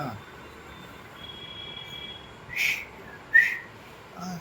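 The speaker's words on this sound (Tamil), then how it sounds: "என்னடா விசில் அடிக்கிற?" A person whistles faintly, with thin sustained tones followed by two short, sharper whistle bursts over a quiet background hum.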